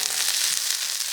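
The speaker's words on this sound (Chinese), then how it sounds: "这个辣椒先下爆。 可以加油，也可以不加油的啊，我还是加点油，给它" Chili peppers fry hard in a little seed oil in a wok, a loud, steady crackling sizzle that fills the whole short moment without a voice.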